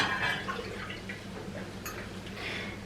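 Milk pours and splashes steadily from a pot into a container for a few seconds, a soft continuous trickling with faint clinks.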